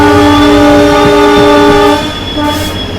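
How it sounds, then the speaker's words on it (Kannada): Vande Bharat Express between Mangaluru Central and Madgaon passing on the Konkan Railway, a loud sustained multi-tone train horn blaring for about two seconds, then rumbling rail noise with a brief second horn burst. "Mangaluru central Madgaon Vande Bharat express"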